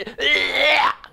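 A single harsh, rattling cough with a lot of mucus in the throat, loud and close, about a second long, with a strained tonal rasp.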